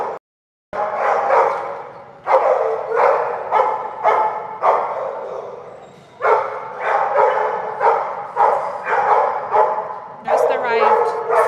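Dogs in kennels bark loudly and close by, again and again in a quick string of sharp barks. A brief whine comes near the end.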